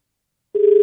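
A telephone ringback tone on a call placed during a radio prank call: silence, then a steady, loud electronic tone that begins just past halfway and holds to the end, with no talking.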